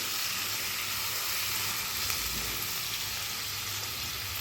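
Ingredients for a ridge gourd chutney frying in hot oil, making a steady, loud, even sizzle that holds close and unbroken throughout with no talking.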